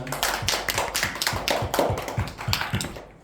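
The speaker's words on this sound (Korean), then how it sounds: "박수하겠습니다." A church congregation claps in steady rhythm after a Sunday worship service, crisp regular hand claps close and fairly quiet, fading out at the end.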